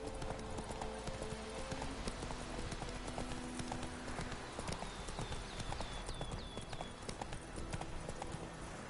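Hooves clip-clop at a steady trot as Roach, Geralt's horse in The Witcher 3, moves along, a continuous close rhythmic clatter with faint game ambience and a few soft tonal sounds.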